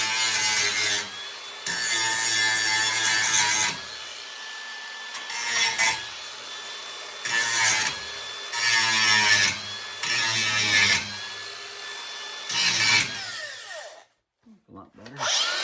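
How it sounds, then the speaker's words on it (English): A handheld grinder grinds material back off a part in a series of loud rasping bursts, each lasting one to two seconds with short pauses between, then it winds down at the end. "let me see if I can grind that back off there. I'll do it with my grinder."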